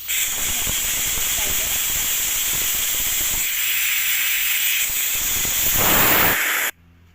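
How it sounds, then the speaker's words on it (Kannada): Steam hisses loudly and steadily from a whistle pressure cooker being opened after cooking tomatoes, a broad continuous rush lasting several seconds before cutting off abruptly. "ಇವಾಗ ವಿಜಿಲ್ ಕುಕ್ಕರ್ನ ಓಪನ್ ಮಾಡ್ತಾಯಿದ್ದೀನಿ"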